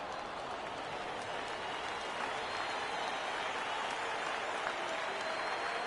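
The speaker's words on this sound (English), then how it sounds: "Crowd gets up for the 3-2." A baseball video game crowd roars steadily as it rises for a full count, a dense, even wash of cheering and clapping that holds at a constant level throughout, with no voices standing out.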